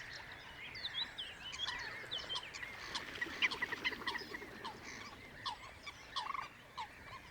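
Busy pond birds calling: repeated harsh, sharp Eurasian coot calls rising over a steady background chorus, some close and loud, others farther off.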